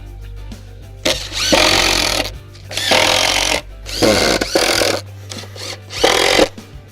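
Power drill driving 3/4 inch wood screws into 3/4 inch plywood on a DIY gym bench build: four loud whirring bursts of a second or so each, separated by brief pauses, close-up with a low hum underneath.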